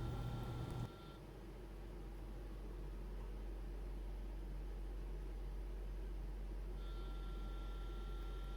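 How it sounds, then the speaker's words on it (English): A steady low motor hum from an Atlas HO-scale ALCO C424 model locomotive fitted with an ESU LokSound decoder, a faint continuous drone with a soft background hiss, alone without speech. "There is a slight humming noise from the motor that can be heard when the ESU LokSound decoder is both"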